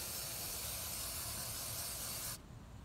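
MAF sensor cleaner sprays from an aerosol can onto a Hyundai Tiburon GT's mass airflow sensor outdoors in hot weather, a single steady close hiss lasting a couple of seconds before cutting off abruptly.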